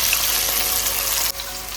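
Ginger and tomatoes sautéing together in a pan for a chicken stew, a steady close sizzle and crackle of frying that dips slightly near the end.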